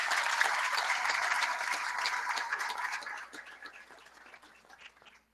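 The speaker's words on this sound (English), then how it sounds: "So let's give an applause to all of them." A church congregation applauds graduates at a June graduation ceremony, a dense patter of clapping that stays steady for about three seconds, then thins and fades out.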